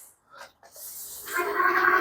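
The hub motor of a Motobello electric bike is driven by pressing the pedal. After a brief quiet start, a close hissing whine with a steady tone swells and holds.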